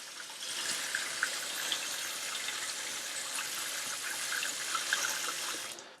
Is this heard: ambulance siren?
no